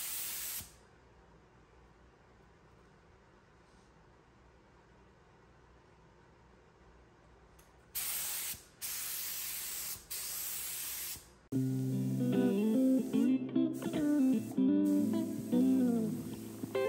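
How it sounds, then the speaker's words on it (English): A spray gun sprays polyurethane finish onto furniture, hissing in short bursts, the first brief and later ones longer, with quiet pauses between and music coming in near the end. "I'll just readjust all the knobs again and then spray on two coats of this"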